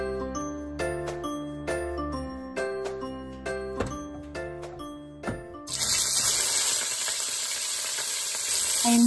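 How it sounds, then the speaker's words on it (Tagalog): Food fries in a pan with a loud, steady hiss and crackle that starts suddenly partway through and continues to the end, after a stretch of melodic tones. "habang nagpiprito tayo"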